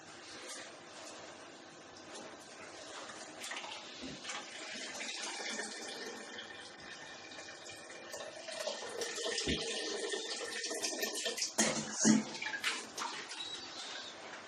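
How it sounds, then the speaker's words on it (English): Liquid draining from lifted brewing grains during homebrewing, a continuous trickling, splashing flow of wort that grows slightly louder and busier toward the end, with no talk. "lift the grains out and let them drain"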